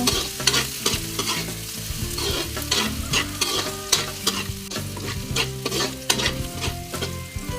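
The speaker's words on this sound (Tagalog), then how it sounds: "ilalagay ko na yung bawang" Garlic sautéing in a hot pan at the start of a Filipino ginisang crab dish with squash and string beans; close, continuous loud sizzling with frequent stirring scrapes and no talk.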